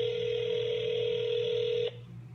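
A telephone with line trouble gives a steady electronic ringing tone, held for nearly two seconds before cutting off abruptly over a faint low hum.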